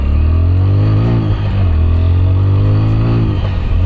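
A TVS Apache 160 4V motorcycle in urban riding mode accelerates on the road. The engine drone stays loud and steady with rising and falling pitch sweeps as it revs through the gears, and no one speaks.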